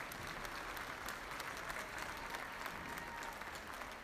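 Steady applause from an audience at a junior market swine show, fairly quiet and distant, with a sustained texture of many hands clapping throughout.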